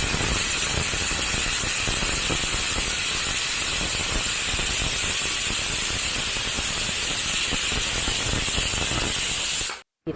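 A pressure cooker vents steam while cooking, a loud, continuous high hiss of whistling steam that holds steady for nearly ten seconds before abruptly stopping.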